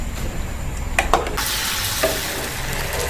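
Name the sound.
paniyaram dumplings deep-frying in oil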